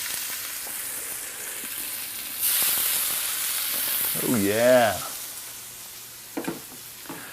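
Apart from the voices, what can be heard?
buffalo steaks sizzling in a cast iron skillet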